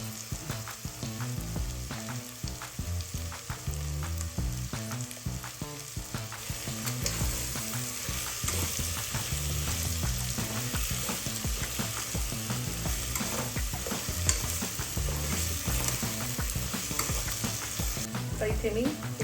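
Vegetables with about two spoonfuls of curd sizzle and fry in a pan for veg pulao while being stirred, a steady loud crackle with repeated scraping stir strokes throughout.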